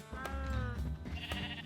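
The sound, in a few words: sheep bleating in a Minecraft video game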